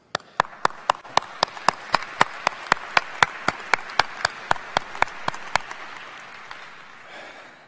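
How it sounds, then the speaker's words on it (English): Loud, evenly spaced single claps ring out in a steady beat at a medical school commencement ceremony, fading out near the end, with a softer wash of crowd noise beneath. "Please look around for a moment and give yourselves a round of applause"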